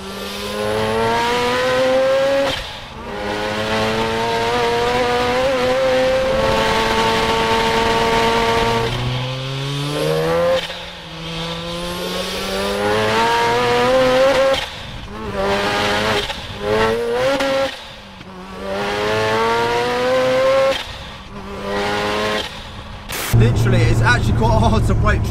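A time attack Mazda RX7 accelerates hard on a public street, its engine revving loud and close with rising, stepped pitch through several gear changes, with brief lifts between pulls and a harsh burst near the end.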